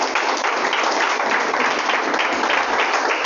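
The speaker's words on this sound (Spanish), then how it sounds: "¿Puedes darle un aplauso al Señor?" A church congregation claps in loud, continuous, dense applause throughout, with no speech over it.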